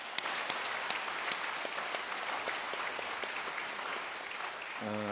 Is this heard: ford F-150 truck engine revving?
no